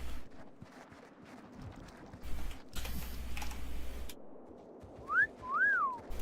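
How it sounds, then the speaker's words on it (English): Short rising-and-falling whistle from a gnome character's emote in an online fantasy game, sounding twice in quick succession near the end over faint keyboard clicks and low background noise. "I'm whistling at rams."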